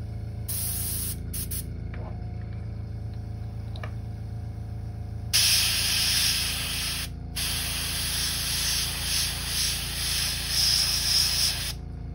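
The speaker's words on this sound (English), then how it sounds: "Clean this out of my airbrush real quick." An airbrush sprays in short bursts while being cleaned out after custom crankbait painting, a loud steady hiss cut off briefly partway through, then resuming strongly.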